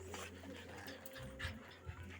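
Several healthy dogs pant quickly and steadily close by, breathy rhythmic huffs with a faint whimper, all fairly quiet.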